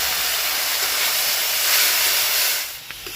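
A little water hits chili and cumin powder cooking in a pan for a prawn and cucumber dish, releasing a loud, steady steamy hiss that fades out toward the end.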